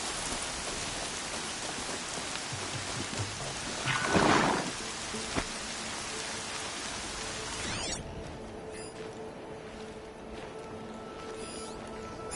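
Steady rain pours in a storm in the video game Horizon Zero Dawn, with a brief swelling crack of thunder partway through, then the downpour continues evenly without any voices.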